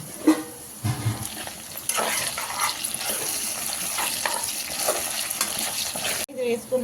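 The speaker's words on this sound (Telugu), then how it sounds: "దీంట్లో కొంచెం అల్లం వెల్లుల్లి పేస్ట్ వేసుకొని మిక్స్ చేసేసుకోవాలి" Ginger garlic paste fried and mixed in a pan for a fenugreek leaf, potato and tomato curry, with a steady sizzle under repeated spoon scrapes and a brief splash of water near the end.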